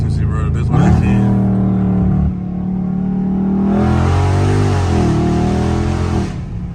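A catless Dodge Scat Pack roars as it accelerates hard, its engine note climbing, dropping sharply at a downshift, then surging again loud and near, heard from inside the car.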